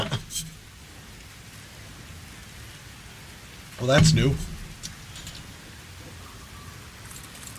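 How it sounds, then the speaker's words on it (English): Steady rainfall in the video game Satisfactory hisses in the background while someone speaks briefly over it, with a louder burst of sound in the middle. "It's raining kittens and puppies out there."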